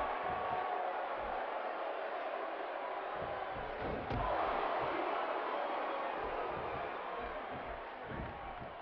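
A wrestling crowd in the WWE 2K16 video game roars and cheers throughout a match, a continuous muffled wall of noise that swells midway, with a commentator's voice over it.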